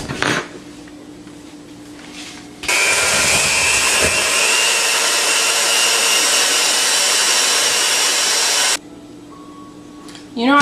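An electric kitchen mixer whirs loudly and steadily for about six seconds while rugelach dough is made, starting and stopping abruptly amid quieter kitchen noise.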